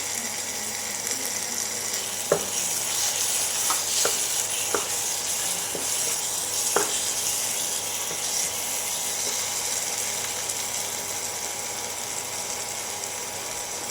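Ginger, garlic and chili powder sauté in a pan for prawn gravy, a steady hissing sizzle under a few sharp clicks and scrapes from stirring, heard close with no talking.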